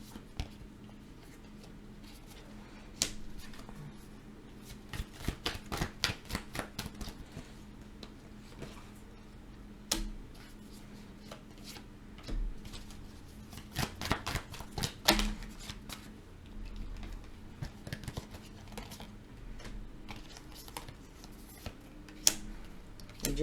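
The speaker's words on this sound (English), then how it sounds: "Let me pull some clarifying cards for my Libras." Tarot cards shuffled and pulled close by, with quiet bursts of rapid riffling flutters and soft slaps of cards scattered across a hushed background.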